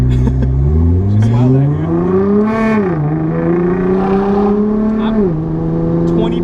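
A 650HP Nissan GT-R R35 with its windows down revs hard, its engine note climbing through the gears over a couple of rising pulls. It stays loud and close, with people talking over it.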